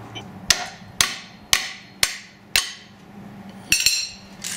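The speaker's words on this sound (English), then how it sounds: "I need a hammer." Sharp metallic hammer blows on a 2011 Cadillac SRX front brake caliper ring out one by one at a steady pace, about seven strikes, each leaving a brief metallic ring.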